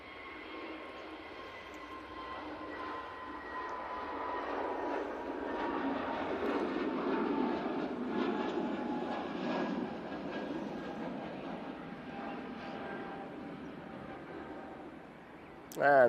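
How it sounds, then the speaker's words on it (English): A departing airliner on runway 23 left at Manchester Airport gives a steady, moderately distant jet roar that swells gradually and stays broad and continuous, with faint voices and a brief louder knock at the very end. "We do have our first aircraft coming over for a 2-3 left departure."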